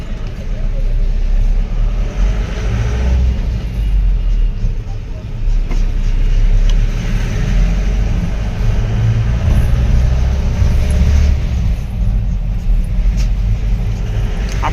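A large car's engine rumbles steadily while driving on the road, with constant low drone and road noise throughout, loud and close with no clear breaks.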